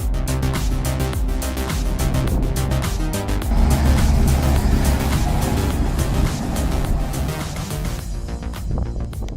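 A 260 HP Ponsse Elephant forestry harvester hauls five tons of wood up muddy forest slopes, its engine a loud, dense, continuous roar that eases off near the end.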